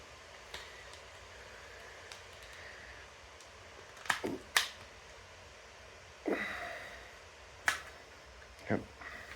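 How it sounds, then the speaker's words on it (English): The plastic casing of a Pico 4 VR controller is pressed shut with several sharp, close snaps at irregular intervals, each click quick and distinct over a quiet background. "You want to go around the whole case and make it click everywhere."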